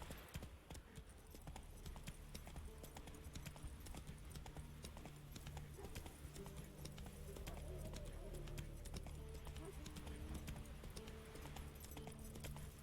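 A horse gallops in The Witcher 3 video game, with quick rhythmic hoofbeats steady throughout, fairly faint, and a voice talking over them.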